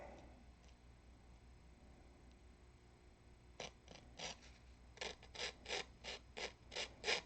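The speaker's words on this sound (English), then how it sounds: "sand right along that line" Sanding along a marked line on a balsa stunt model plane spar notch: quiet rubbing at first, then a run of about nine short, rhythmic rasping strokes, close and growing louder.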